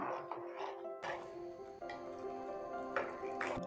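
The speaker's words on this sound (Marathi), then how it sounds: "आपलं तूप पण राहिलं होतं मेजरमेंटप्रमाणे घेतलेलं ते पण आपण घालूया थोडंसं" Ghee is poured into phirni in quiet, soft liquid drips and squishy splats close by, over a faint background voice.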